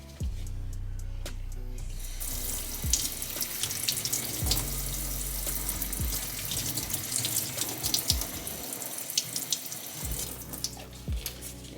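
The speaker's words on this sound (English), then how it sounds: "fill up like one of the empty bottles with a little bit of water" Tap water runs steadily into an empty bottle, a continuous hissing splash that shifts in tone as the bottle fills, with a few clinks and knocks along the way.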